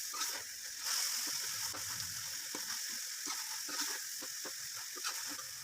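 Minced meat keema with khara masala and green chillies dry-roasting in a pan, a steady close sizzle with scattered scraping and stirring clicks throughout, no voices.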